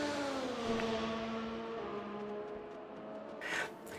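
Open-wheel FR X-22 race cars with modern V6 turbo engines heard from outside in the RaceRoom racing game, their smooth, buzzing tone sliding down in pitch as they pass, fairly faint, with a brief sharp burst near the end.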